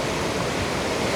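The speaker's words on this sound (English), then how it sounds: "here we are, guys, right above the waterfall" The waterfall at Choke Creek Falls in a Pennsylvania state forest roars steadily from just above the falls, a dense, unbroken rush of water with no voices.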